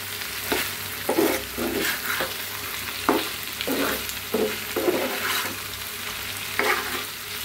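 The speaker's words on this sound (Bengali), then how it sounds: "আমি তো এখানে লাউ শাকটা বাগা দিচ্ছি, তো শাক ভাজি হয়ে আসছে।" Bottle gourd leaves frying in oil as they are stirred and turned, steady sizzle broken by repeated rhythmic scrapes and clatters of a spatula against the pan, close and fairly loud, no talking.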